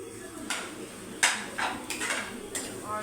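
Egg bhurji stirred in a pan with a metal spoon, giving a handful of sharp scraping clinks and taps spaced irregularly over a low kitchen background.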